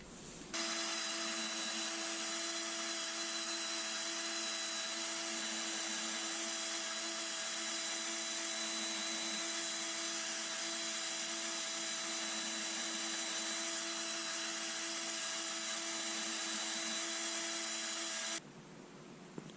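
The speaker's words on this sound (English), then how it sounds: "We'll use the primer reamer tool." A primer reamer tool spins in the primer pocket of .223 brass, a steady high-pitched motorized whine that holds evenly for about eighteen seconds and then cuts off, close and alone.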